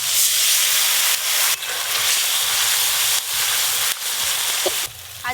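Dried chilli paste and mustard-poppy paste fry with tomato in hot oil, a loud, close, continuous hissing sizzle that dips briefly several times as the pan is stirred, with a small clink near the end and no talking.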